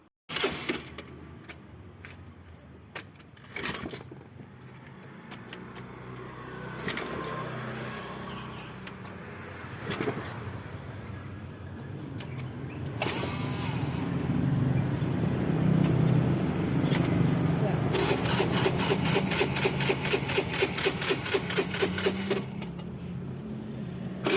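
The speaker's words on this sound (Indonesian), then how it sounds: "bisa teman-teman dengarkan bunyi motor kita ketika dihidupkan itu seperti apa" An old motorcycle engine is started, with clanks and sputtering attempts before a rough, uneven idle rattles close by.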